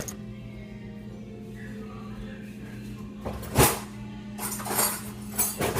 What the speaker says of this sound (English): Take a fork and I just stir it all together